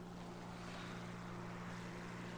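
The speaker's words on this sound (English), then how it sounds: "Oh, plane on me." Steady, droning propeller engine of a plane in the War Thunder tank battle game, a continuous even hum with no talk over it.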